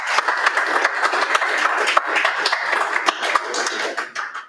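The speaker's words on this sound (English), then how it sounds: "Let's have a round of applause for Alex." Audience at an MLOps London meetup applauding a speaker named Alex, a steady patter of many hands clapping at moderate distance, continuous for several seconds and tapering at the end.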